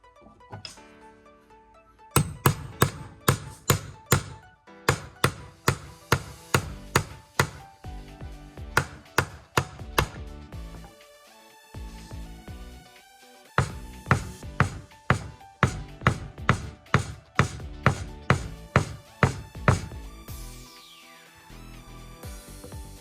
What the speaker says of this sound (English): And hammering in the first handle.